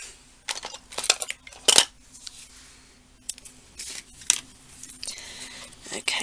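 Scissors cutting a length of decorative paper at a craft table, a few short, crisp snips close by among light handling rustle and clinks, with a voice talking at times.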